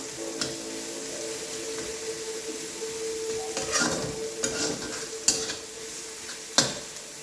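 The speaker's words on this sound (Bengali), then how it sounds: "অনিয়নটা ভাজা হোক।" Onions fry in a pan for a Katla fish curry, a steady sizzle with a spatula scraping and stirring, and sharp metallic clinks of utensil against pan near the end.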